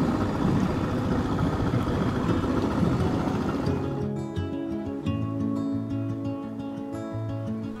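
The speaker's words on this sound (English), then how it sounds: "gonna start up the engine and get going" A sailboat's engine rumbles steadily at dawn while leaving an anchorage in the Bahamas, a low continuous drone that shifts in tone partway through as it settles into running, with no voices.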